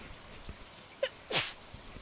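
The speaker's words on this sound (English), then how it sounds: "I gotta sneeze." A streamer sneezes once, loud and close, a sharp burst after a faint catch of breath, surrounded by quiet room noise.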